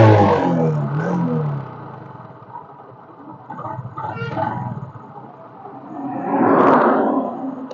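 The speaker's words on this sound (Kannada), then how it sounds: "ಇಂಜಿನ್ ಸೌಂಡ್ ಕೇಳಿಸ್ಕೊಳ್ಳಿ ಇವಾಗ" A Honda Shine 125 cc motorcycle engine runs with a steady mid-range rumble under some talk, then revs into a louder swell near the end.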